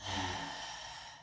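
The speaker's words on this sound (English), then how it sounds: "Take a deep inhale." A deep inhale during yoga cobra pose: a single soft, breathy draw of air, close and quiet, swelling at the start and then tapering over about a second.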